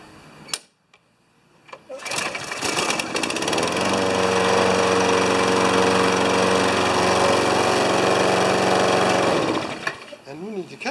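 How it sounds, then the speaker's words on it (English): A Briggs lawnmower engine starts with a few sputters, then runs at a loud, steady idle for several seconds before cutting off. "we're just making sure this lawnmower runs the next day."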